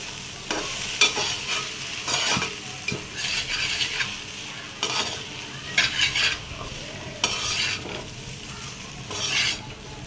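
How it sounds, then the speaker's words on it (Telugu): A spoon scrapes and stirs egg noodles with tomato sauce in a hot pan, giving an irregular series of scraping strokes over a faint sizzle, close and without talk. "ఒకసారి అన్నీ కూడా కలిపేసుకుందాం."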